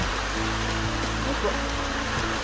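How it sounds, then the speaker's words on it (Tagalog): Rain pouring down outdoors at a construction site where concrete posts are being built, a dense constant hiss close by, with a low steady hum underneath. "Ayan, nabutan tayo ng ulan"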